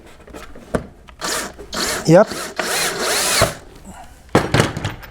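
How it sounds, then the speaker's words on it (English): Cordless drill driving a screw into the center of a wooden base board, with short whirring bursts and a rising pitch sweep as the screw bites, close and loud, with a brief spoken word. "I brought a drill, so I put a screw right in the center here to hold the board for the base."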